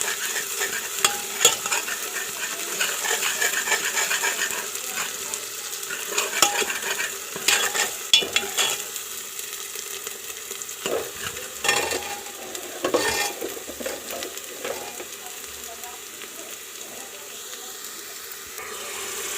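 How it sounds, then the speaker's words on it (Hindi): Onions fry in a pan on a home kitchen stove, a continuous close sizzle broken by frequent metal spoon scrapes and clinks as they are stirred, louder bursts in the first half, with no talking. "प्याज डाल दिया, जब अच्छी तरह भुन जाएगा"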